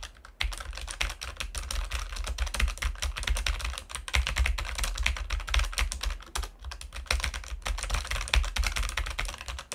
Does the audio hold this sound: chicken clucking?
no